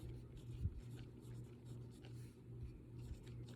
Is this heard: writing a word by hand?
yes